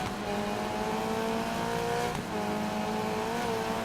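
Cosworth rally car engine in the racing game Gravel, a steady high-pitched drone with clear harmonic whine, holding pitch with a brief dip midway, loud and continuous with no talk.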